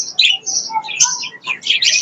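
Flock of budgerigars, adults and young birds kept for sale, chirping and warbling up close in quick overlapping calls with short gaps between bursts.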